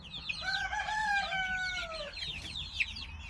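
Amerikano chickens in a coop: one rooster gives a clear drawn-out crow while hens cluck around it, close and moderately loud.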